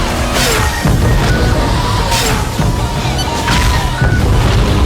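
Missiles fired between two sports cars and exploding in a movie chase, loud booming blasts and crashing impacts in a dense, continuous roar of action sound effects.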